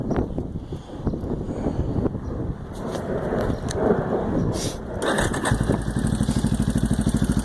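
A Yamaha Warrior 350 ATV engine starts and runs after an oil change and carburetor tuning, a loud, close, rough idle with steady rapid pulsing and some wind noise over the microphone.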